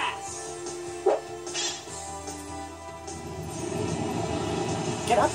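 A pet dog named Sophia whimpers and yips near the microphone in a room, with short high cries standing over steady background noise and a game soundtrack.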